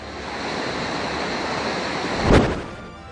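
Rushing floodwater from days of monsoon rain pours through a normally dry waterway, a steady broadband roar with one brief louder surge near the end.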